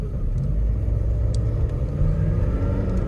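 A 1995 Toyota Hilux Surf turbo diesel accelerates with a steady, loud low rumble of engine and road noise filling the whole stretch, close and continuous with no talking.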